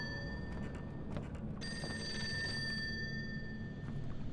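A ringing bell in the survival horror game Fatal Frame: Maiden of Black Water, sustained tones over a low game ambience, restruck and louder about midway.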